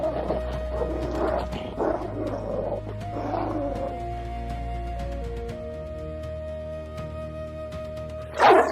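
African wild dogs bark and yip in scattered, excited calls over a steady low drone and faint tonal music, with a sharper burst near the end.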